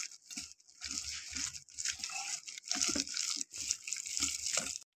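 Water added to gram flour batter and mixed, giving close, uneven splashing and wet squelching with short pauses between bursts, moderately quiet, with no talking.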